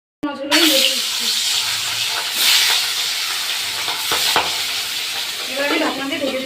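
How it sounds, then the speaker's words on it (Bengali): Boal fish pieces coated with salt and turmeric fry in hot oil with a loud, steady sizzle and crackle, punctuated by occasional clinks of a utensil stirring or turning them in the pan. "নুন আর হলুদ, মাছগুলো আমি ভেজে দিচ্ছি।"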